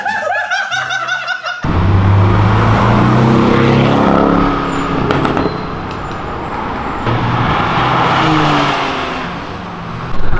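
A 450 hp nitro-equipped Jetta roars loudly on an avenue, a sustained engine howl that rises and falls after a brief burst of laughter at the start.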